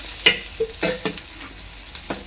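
Eggplant slices fry in a pan of oil with a few sharp sizzling pops and crackles spaced over a couple of seconds, close and moderately loud, with no voices.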